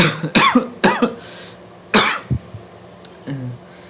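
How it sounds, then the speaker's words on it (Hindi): Several sharp, loud coughs from a person with a sore throat, close to the microphone, coming in quick bursts with brief pauses, followed by a softer throat sound. "ये खांसी ना एक्चुअली मेरा गला ख़राब रहता है मोस्टली, तो इस वजह से मुझे खांसी आती रहती है"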